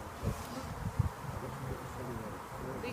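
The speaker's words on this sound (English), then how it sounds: "These bees are covered in pollen." Pollen-laden honey bees hum around brood frames while a nucleus hive is being transferred, a faint, steady, low buzz that carries through the whole stretch with a few slightly louder swells.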